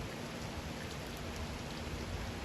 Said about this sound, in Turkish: Mersin'de akşam saatlerinde aniden bastıran dolu yağışı hayatı olumsuz etkiledi